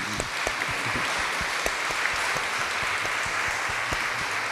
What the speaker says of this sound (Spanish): Pues lo recibimos con un fuerte aplauso.